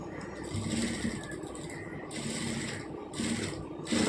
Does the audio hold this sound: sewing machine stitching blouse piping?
yes